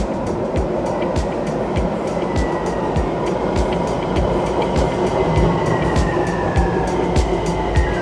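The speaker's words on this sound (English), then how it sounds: "And there's our train." Train pulling into Miami downtown station, a loud continuous rumble and rolling roar with repeated rail clacks and a faint squeal of wheels, close by throughout.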